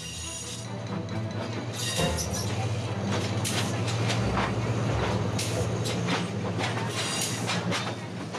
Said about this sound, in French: La vieille locomotive Alstom des années 80 fait ce qu'elle peut